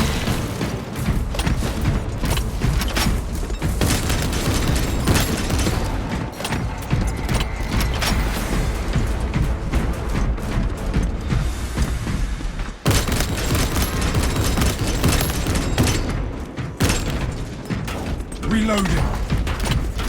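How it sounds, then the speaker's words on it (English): Frag grenade blasts boom through dense combat in Warhammer 40k Space Marine 2, layered over continuous gunfire, thuds and clanking mechanisms in a loud, unbroken battle mix. "Releasing frag grenade."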